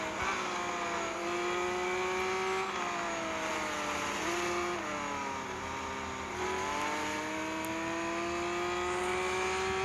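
A Lamborghini Veneno in a racing video game, its engine droning loud and steady with harmonic whine that dips and climbs through gear changes, a continuous close roar with no voices.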